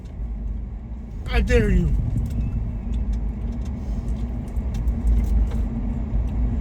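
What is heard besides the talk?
road traffic, cars driving past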